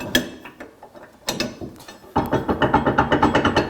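A trailer hitch receiver on a Mercedes GLK X204 rocks in its mount, giving a few scattered metallic knocks and then a quick run of regular, close clunks, each one sharp and loud, with no voices.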